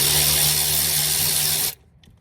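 Power tool tightening bolts on the ignition control module of a 1995 Chevy G20 van with a 350 5.7L engine, a loud steady whirring burst close by that stops abruptly.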